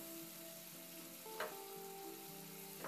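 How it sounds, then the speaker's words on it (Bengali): Masala with tomatoes and a splash of water is stirred in a pan, giving a soft steady sizzle with a couple of sharp spoon scrapes against the pan, close and moderately quiet, with no talking. "জলটা দিয়ে মিনিট 2 মতো একটু নাড়াচাড়া করে নিয়েছি"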